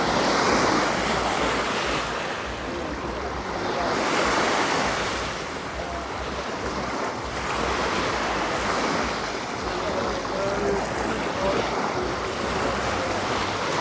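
Ocean waves at Lamai Beach on Koh Samui, a steady loud wash of surf rising and falling in slow swells, with some wind buffeting the microphone and no talk.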